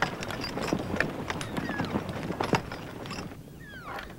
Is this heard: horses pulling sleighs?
yes